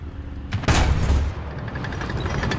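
Heavy tank cannon in War Thunder fires once with a deep, loud boom and a sharp crack, its rumble trailing off as battle noise continues at a lower level.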